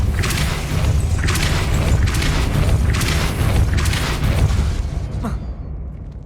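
Depulso spell cast in the Hogwarts Legacy video game: a series of heavy, booming bursts repeating about once a second, ending with one sharp impact before the sound dies away.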